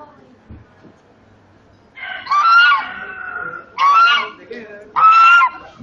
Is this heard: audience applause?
no